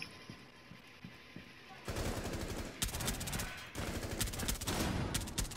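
Rapid bursts of automatic gunfire in a hostage-rescue shooter video game, loud and dense after an early stretch of quieter scattered shots, with a fast rattling rhythm.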